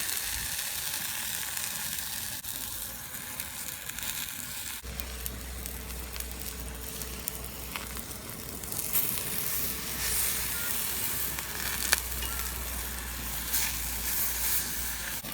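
A steady, hissing sizzle of mushroom caps frying in oil in a hot pan, continuous and close, with faint clinks and background noise.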